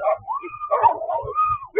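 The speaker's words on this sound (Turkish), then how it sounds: "Balıkesir'in Bandırma ilçesinde 6 köpek 57 yaşındaki bir kadına saldırdı." A pack of six stray dogs attacking a 57-year-old woman on a street in Bandırma, Balıkesir, gives out high, tonal whimpers and yips, a continuous strained whining lasting about two seconds, fairly close.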